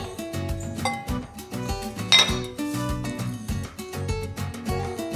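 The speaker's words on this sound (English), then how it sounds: "scoop of rice with beans, scoop and a half" Utensils clink and scrape against Visions amber glass cookware while rice and beans are scooped out, with repeated close, bright clatters in an uneven rhythm and no talking.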